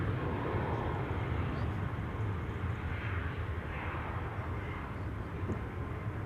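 An Airbus A340 four-engine airliner at Amsterdam Schiphol Airport gives a steady, broad jet roar that holds at a moderate, distant level throughout, with no speech over it.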